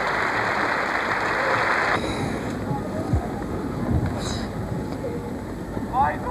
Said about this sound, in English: brought back by the applause of the Russian crowd here at the Moscow News Skate